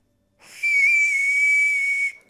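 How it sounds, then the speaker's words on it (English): A single Oscar Mayer weenie whistle is blown once, a bright, steady, breathy tone that rises in quickly, holds for about a second and a half, then cuts off, loud and close in otherwise silent surroundings. "you can put in all kinds of treasures. Like an Oscar Mayer weenie whistle."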